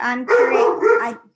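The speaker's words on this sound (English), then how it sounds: "Sorry about my dog." A pet dog barks and yips close by during an online group session, two short bursts over about a second, loud against the room.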